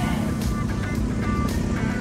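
Motorized kalesa-style pedicab carrying riders from terminal to gymnasium at the 24th Sinawog Festival in Asuncion, Davao del Norte; a steady engine drone and road rumble run continuously and fairly loud throughout.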